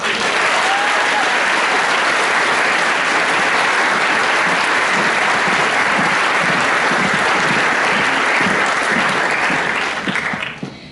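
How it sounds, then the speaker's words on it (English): Loud, sustained applause from a large audience at a Year 13 graduation ceremony, a dense even roar of clapping lasting about ten seconds before tapering off at the very end. "Big round of applause again."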